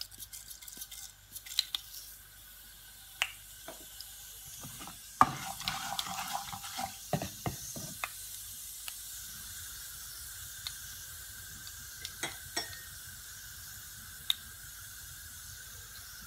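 Cumin seeds dropped into hot oil for a Punjabi egg curry gravy, giving a soft steady hiss and sizzle broken by a few sharp crackles and scrapes, no voices.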